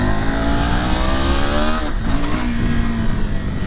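A 2019 KTM 790 Adventure motorcycle revs hard and accelerates during a wheelie test, a loud steady engine roar that rises in pitch, dips briefly, then surges again.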